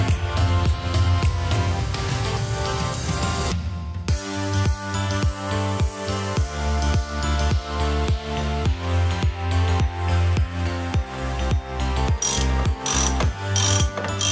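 A hand ratchet clicks rapidly while loosening hardware on the cracked steering post bracket of an Arctic Cat M8000 snowmobile, starting as a fast whirring burst, then settling into steady rhythmic clicking strokes, close and clear with no talk.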